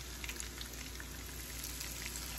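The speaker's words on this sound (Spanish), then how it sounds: "Para terminar de darle la primera sofrita a todo el pollo." Chicken pieces frying in hot oil for honey chicken, a steady close crackling sizzle with fine popping spatter throughout and no talk.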